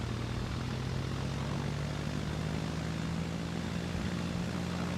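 A Fokker F-26 Phantom flies over the AeroKosh air show, its engine drone loud and steady with a sustained low tone that slowly rises in pitch, no voices.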